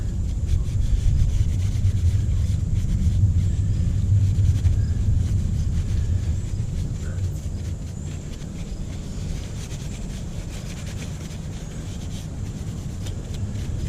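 Steady rubbing and scrubbing on a Husqvarna 440 chainsaw as it is cleaned, a continuous close, loud scraping texture that eases slightly partway through, with no talking.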